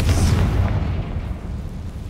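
In Hogwarts Legacy, a Confringo fire spell bursts with a deep, rumbling explosion that hits loud at first and then fades into a low, decaying roar.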